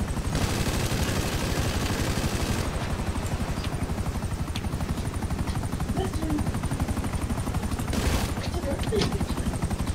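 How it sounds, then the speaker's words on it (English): Helicopter rotor chop and bursts of machine-gun fire inside the video game GTA V, a steady loud mechanical roar with dense rapid pulses throughout, louder at the start and again near the end. "I'm hearing machine guns."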